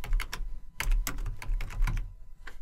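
A computer keyboard clatters as code is typed, a quick run of close, crisp key clicks in uneven bursts, with no talking.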